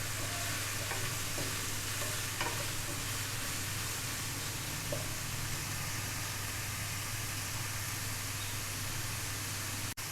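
Chopped onion is stirred into minced meat frying in a pan for keema paratha. A steady, quiet sizzle runs throughout, with faint scraping stirs near the start.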